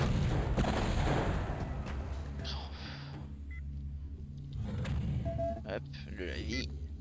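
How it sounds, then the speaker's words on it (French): A grenade blast in the shooter game Shadow Warrior Classic, a heavy booming rumble with gunfire-like bursts, loud and sustained amid game effects, with someone talking over it. "Une grenade."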